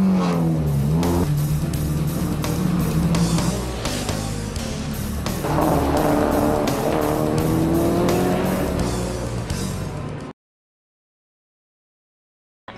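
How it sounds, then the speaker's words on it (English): A Mazda RX-7 race car drives hard at close range, its engine roaring and revving steadily with tire squeal, for about ten seconds before cutting abruptly to silence. "This is an RX-7."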